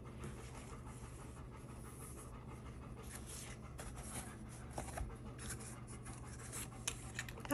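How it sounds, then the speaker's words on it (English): Quiet, rhythmic dog panting close by, steady quick breaths over a faint hum, with occasional light scratching sounds. "I'm sorry about Elvis panting."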